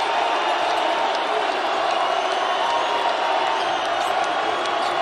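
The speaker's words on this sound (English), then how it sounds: "And listen to this crowd." A packed college basketball arena during a Boise State versus New Mexico game, with a steady, dense crowd roar filling the whole stretch, loud and sustained, and a faint commentator voice underneath.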